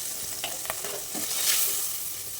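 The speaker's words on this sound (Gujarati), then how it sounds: "ઉમેરીને સરસ ફ્રાય કરી લઈએ" Kashmiri red chili powder, coriander-cumin powder and salt fry in a hot pan, giving a steady close sizzle with a few scraping stirs, no voices present.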